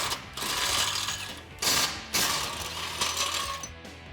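Ratchet wrench with a 21mm socket loosening the bumper bracket and tow hook bolts on a Jeep Wrangler JL, rapid metallic clicking in several close bursts with short pauses between them and no speech.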